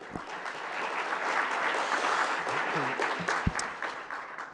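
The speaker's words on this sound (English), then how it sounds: "Let's give him a round of applause, please." Steady applause from a conference audience at Secure Miami 2026 opening remarks fills the clip, even and sustained with a few louder claps standing out.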